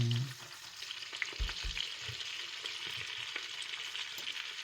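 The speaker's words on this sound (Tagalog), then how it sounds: "So, ngayon, iprito na natin yung ating chicken." Chicken frying in butter in a pan for a Filipino dish, a steady close sizzle with a few low thuds and knocks near the start.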